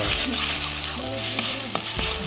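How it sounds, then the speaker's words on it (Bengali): Broccoli and spices, turmeric and Kashmiri chili powder, stirred in a hot pan, a steady sizzle with scraping spoon strokes and a couple of light clinks throughout. "ভালো করে মিশিয়ে দেবো"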